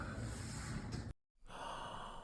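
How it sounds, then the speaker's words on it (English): A single gasp sound effect added to an artist's ad score, sharp and breathy, dropping into a brief silence before a steady background bed returns. "A simple gasp, just to kind of add to the amazement"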